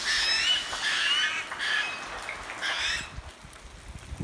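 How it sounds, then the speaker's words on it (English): A flock of choughs calls in repeated high, harsh squawks, several birds overlapping in bursts at moderate distance, with a faint patter in the background and no talk. "accompanied by the delightful sounds of the flock of chuffs"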